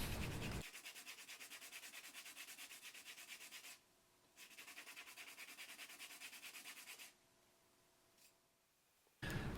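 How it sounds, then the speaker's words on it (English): Rhythmic rasping strokes of 80 grit sandpaper rubbing against leopard wood while shaping a lure, close and steady, pausing briefly twice before resuming. "I finished off the chamfers with some 80 grit sandpaper"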